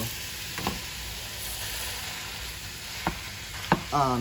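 Ground beef fries in a pan for tacos, with a constant soft sizzle and a few brief scraping stirs of a utensil near the end, close and fairly quiet, without talking.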